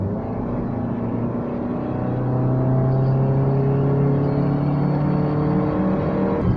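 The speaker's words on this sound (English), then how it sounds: "You can hear the engine roaring." A 2007 Kia Picanto hatchback engine roars steadily from inside the car, a loud droning hum with rising harmonic tones as revs climb, continuous and without talk.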